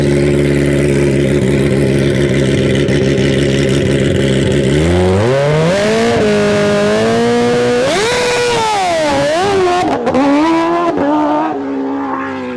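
A sport motorcycle such as a GSXR 1000, Hayabusa, S1000RR or ZX14R, running a backdated stock clutch, idles and then launches hard in a street race. The engine screams loudly up through the gears, with rising pitch sweeps and brief drops at each shift.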